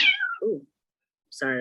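A pet cat meows twice, a falling cry and then a short second call, followed after a pause by a woman's brief spoken words.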